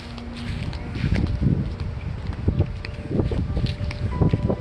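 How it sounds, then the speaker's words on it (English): Strong wind buffets the microphone with a constant low rumble and rushing gusts that swell and ease, close and loud, with no one speaking. "it is so windy."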